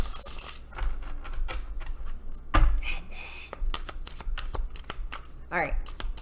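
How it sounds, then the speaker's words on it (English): A deck of cards shuffled by hand during a psychic reading, with repeated crisp riffles and snaps in quick bursts, close up, and a few faint murmured words between them. "a couple more shuffles here"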